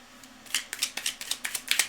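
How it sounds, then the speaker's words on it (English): Tarot cards being shuffled: a quick series of about a dozen crisp, close riffling snaps and flicks in an uneven rhythm, fairly quiet against a silent background. "I kept shuffling and I kept shuffling and I kept shuffling"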